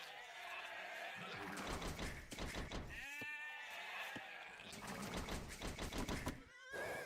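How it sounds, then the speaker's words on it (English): Sheep bleating in a Warlords strategy game, several wavering calls repeating close together over continuous game audio, with a voice talking throughout. "The sound of finding sheep is like music to my ears."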